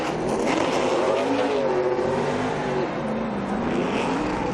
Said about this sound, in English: While his driver does the celebration donuts